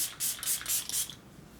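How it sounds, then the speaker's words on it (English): Setting spray misted over a finished full-face glam makeup look, four quick hissing spritzes in steady succession, close and soft, then quiet. "We're going to give ourselves one last little spray down"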